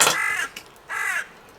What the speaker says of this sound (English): Does that bird not realise that I am actually filming?